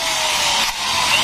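A 12.5 mm drill bit bores into a part of a Honda Supra X 125 motorcycle, giving a steady, loud, close grinding whine with a brief dip in the middle.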